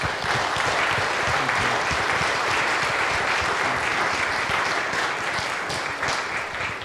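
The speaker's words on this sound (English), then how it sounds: "Let's give her a round of applause" Steady, dense applause from a spiritual community audience, sustained at an even loud level for the full stretch with no voices breaking through.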